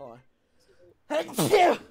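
A single quick sneeze bursts out near the end, following a brief spoken remark and a short quiet pause.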